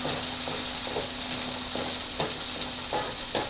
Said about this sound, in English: half a small onion that I've finely chopped. We're going to let that sweat out a few minutes.